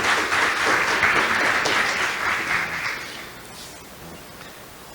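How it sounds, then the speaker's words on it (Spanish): An audience applauds speakers at an astrology and Torah talk, a dense, even burst of clapping that gradually softens and tapers off over several seconds. "Un aplauso para ellos, por favor"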